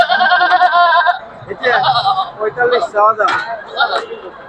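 Goats bleat close by in several overlapping, wavering cries at a busy goat market in Natore, mixed with nearby talk and crowd murmur.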